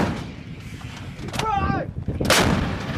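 A Marine artillery gun fires during a training exercise at Yausubetsu, producing a heavy booming blast that lands late in the clip over a rumbling outdoor background. A brief voice is heard beforehand.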